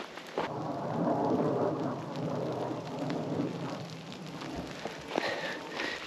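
Steady rain falling on a bush trail near Perth, a dense continuous hiss of drops on foliage and ground, close and enveloping, with a few louder drips and a low rumble near the end.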